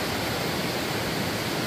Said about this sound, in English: From the tree, the water's falling from the tree.